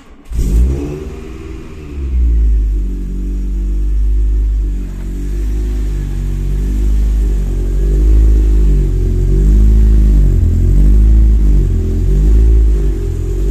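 A Volkswagen Golf 2 16V engine revs up and down repeatedly, a loud, close, steady growl that rises and falls in pitch with no talking over it.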